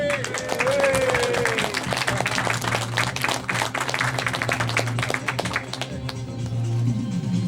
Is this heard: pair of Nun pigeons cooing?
no